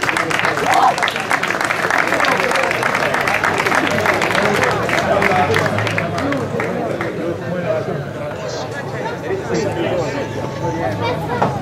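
Audience applause at the awards for the 40th Ponte Corace–Tiriolo hill climb race, steady sustained clapping with crowd chatter throughout, fading slightly toward the end.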